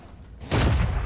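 Tank cannon shot striking enemy armor in World of Tanks, British Comet tier 7 medium tank: a single sudden heavy boom after a quiet moment, loud and close, with a rumbling tail.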